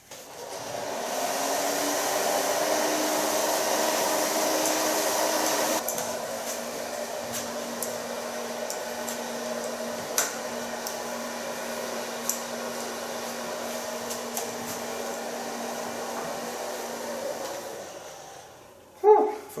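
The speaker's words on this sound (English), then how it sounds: "Start blow drying from the neckline up to the top." A hair dryer blows steadily while drying short hair from the neckline up, a loud continuous whoosh that eases to a lower, even hum midway, with faint brushing clicks before it switches off.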